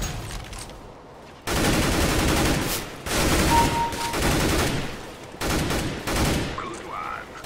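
Sustained automatic AK rifle fire in a competitive video game, several long loud bursts separated by short pauses, with a faint voice briefly audible between volleys.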